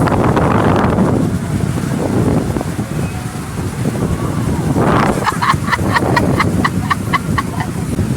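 Wind buffets the microphone at a hot waterside spot with water lapping nearby, a continuous rough roar; a burst of faint rhythmic knocking joins midway.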